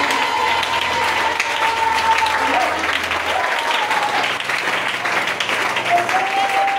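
A church congregation applauds in a sustained, dense wash of clapping, with a voice calling out over it and a tonal hum in the background.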